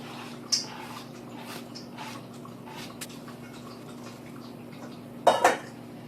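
Cucumber salad ingredients being tipped and scraped into a mixing bowl, with a couple of sharp clinks of utensils against the bowl and soft scattered clatter in between, fairly quiet and close with no voices.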